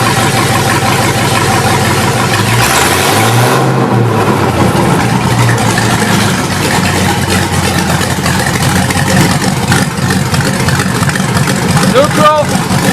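A Hellcat-engined Power Wagon truck is shifted into drive and given a little throttle, its engine rumbling steadily and loud throughout with a brief rise in revs, while a person talks over it.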